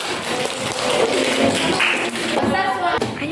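Sixth-grade pupils in a primary school classroom applauding group 4 after their presentation, a dense patter of clapping hands with scattered thumps and children's voices mixed in.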